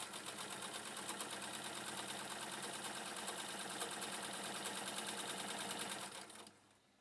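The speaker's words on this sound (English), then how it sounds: "Being based on a Singer 15, the Novum is something of a workhorse and will sew through fabrics modern machines would balk at." A vintage Novum sewing machine, built on the Singer 15 design, runs continuously through fabric with a fast, even mechanical chatter at low level, winding down at the end.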